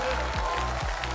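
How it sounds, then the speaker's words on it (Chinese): Studio audience applause on a Chinese television variety show, a dense, steady wash of clapping that fills the whole short moment without a break. "来掌声给他们。"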